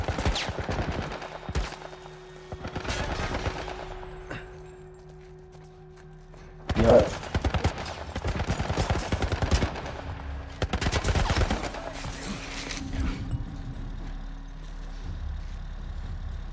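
Rapid bursts of automatic gunfire from a military turret in The Last of Us Part 1, loud rattling volleys broken by short pauses, with heavy mechanical rumble underneath.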